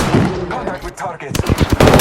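Rapid bursts of automatic gunfire ring out in the Apex Legends video game, loud and close, with staccato rattles that intensify in the final second.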